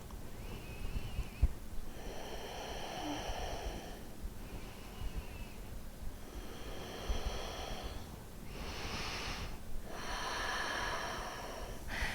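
Slow, steady breathing in and out while holding a seated yoga forward fold, each breath soft and close, repeating in a calm rhythm with quiet pauses between.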